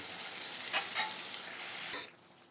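Methi chicken sautéing in a pan, a faint, even sizzle with a few soft scraping stirs rising briefly above it.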